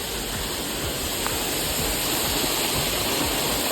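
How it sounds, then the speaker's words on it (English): A waterfall pours in a constant, loud, close roar of rushing water, broadband and unbroken for the whole stretch. "today we're going to be getting a cool shot of some waterfall like this"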